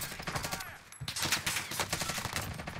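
Rapid automatic gunfire in the video game Call of Duty: Warzone, loud, dense bursts that keep going with only a brief break near the start.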